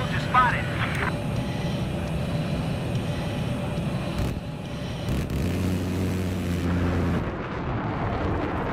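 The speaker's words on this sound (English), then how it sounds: "spotted an enemy jet." A jet aircraft roars through a video-game battle on a hangar map, a loud continuous rumble with engine whine and sharp effects, a low drone setting in partway through, under game radio voices.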